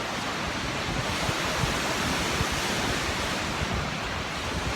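Waves break steadily on a Lake Superior beach at Pictured Rocks in Upper Michigan, a continuous loud wash of surf with some wind noise and no voices.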